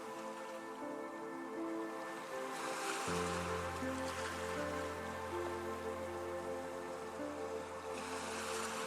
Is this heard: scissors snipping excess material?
no